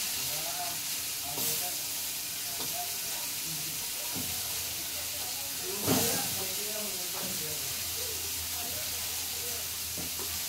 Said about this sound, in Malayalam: ഒരു പാവയ്ക്കയിൽ ഞാനിച്ചിരി സവോളയൊക്കെ അരിഞ്ഞിട്ട് വറക്കാൻ വെച്ചിട്ടുണ്ട്.